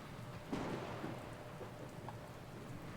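Steady rain falls with a low rumble of thunder swelling briefly near the start, a faint, distant storm ambience with no voices.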